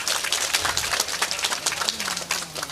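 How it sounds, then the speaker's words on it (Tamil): Steady applause from a crowd gathered at a temple consecration ceremony (Maha Kumbhabhishekam) in Kalahasthinathapuram, honoring Saravanan; dense, continuous clapping of moderate loudness fills the whole moment with no voices over it. "சரவணனுக்கு ஒரு பலத்த கரகோஷம்"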